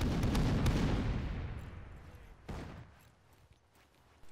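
Gunfire rings out in an Arma military game, a dense burst of shots and booming reports up front that trails off into a fading rumble, then a second sharp report and further scattered shots.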